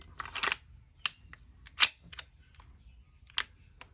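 A gas-powered 1911 BB pistol dry-fires with no BBs loaded, producing a series of sharp, close mechanical snaps and clacks at irregular intervals with quiet pauses between them.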